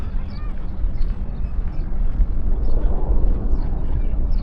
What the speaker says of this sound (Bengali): ওই হেলিকপ্টার ট্রল দিতেছে